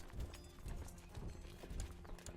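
Horse hooves clip-clop in a steady, busy rhythm within the Crusader Kings II strategy game, several riders moving together under a constant background rumble, with no talk over it.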